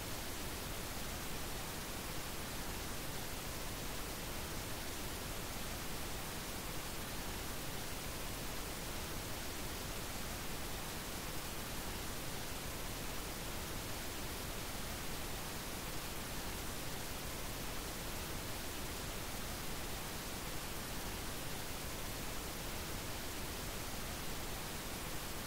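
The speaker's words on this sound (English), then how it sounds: "Audio test, pink noise." Steady pink noise test signal, a continuous, even broadband hiss at constant level throughout with no pauses and no voices.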